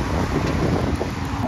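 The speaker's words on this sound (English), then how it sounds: "It's really windy out here." Strong wind buffets the microphone outdoors during a cold-weather run, a continuous dense rumble and roar with no break.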